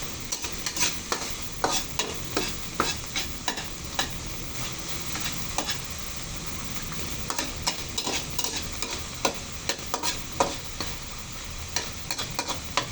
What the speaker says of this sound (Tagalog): Isatay lang po natin at mas maluto po yung ating giniling.